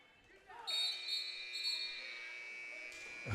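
A long, loud electronic buzzer drones steadily for a few seconds over ambience at a varsity boys' basketball game in a gym, ending with a thump.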